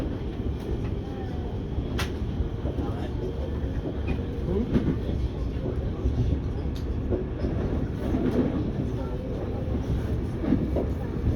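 A Siemens Nexas suburban train in Melbourne rumbles along with a constant low roar from inside the carriage, soft rail clicks and faint rattles, and muffled voices at times.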